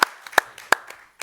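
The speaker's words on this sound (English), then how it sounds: "can we give a round of applause?" A few scattered, sharp hand claps from a small audience at a conference session on innovative financing for water and sanitation in Africa, spaced irregularly and fading into quiet between them.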